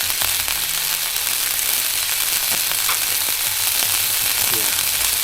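A pan being seasoned over a Trangia 25 Duossal alcohol stove sizzles loudly and spits, a constant dense crackle with frequent small pops, close up.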